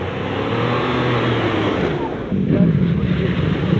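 A Ford Bronco engine drones steadily as the vehicle drives into an off-road mud hole, a constant close rumble with wind buffeting that swells slightly louder partway through.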